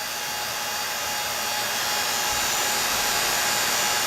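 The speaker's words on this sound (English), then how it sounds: "The vacuum pump's still running." A vacuum pump running on a car's air conditioning system during a V8 Miata build, a steady whirring hum with hissy noise that holds nearly constant and grows slightly louder, with no voices.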